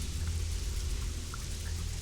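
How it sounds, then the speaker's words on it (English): Steady rain in the video game Sacred 2 Gold, a dense, even hiss of falling drops with a low rumble beneath, continuous and fairly loud throughout with no talking. "I can still listen to the rain"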